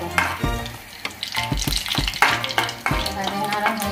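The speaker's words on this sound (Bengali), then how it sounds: "এলাচটা একটু গরম হয়ে গেলে এভাবে নাড়তে থাকো।" Four cardamom pods sizzle in a hot pan while a spoon scrapes and stirs them in rhythmic strokes, near and clear, with no talking.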